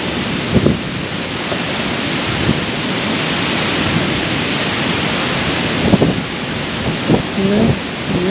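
A thunderstorm strikes a homestead with heavy rain and wind, a steady dense roar of downpour throughout with a few low rumbling thunder swells, loud and close.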